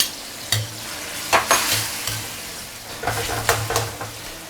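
Diced tomatoes go into a hot pot of simmering home-style Chinese food, with a bright sizzle, a low bubbling hum and several stirring scrapes and clanks up close.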